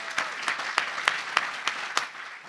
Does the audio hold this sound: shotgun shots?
no